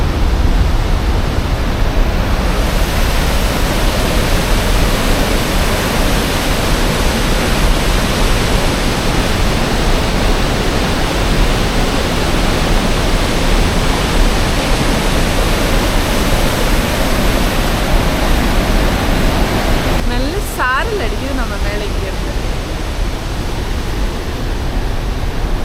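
Sutherland Falls pours down as a constant, loud roar of falling water and spray, heard close and uninterrupted for the whole stretch with no voices.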